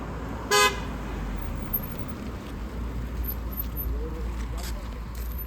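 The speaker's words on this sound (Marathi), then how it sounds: "मग फायनली आमची गाडी आली" A short, clear car horn toot sounds once near the start at a roadside, then a car idles and rolls up on the road beside a gate, with faint background voices.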